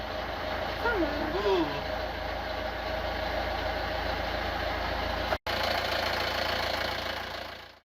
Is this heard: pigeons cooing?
no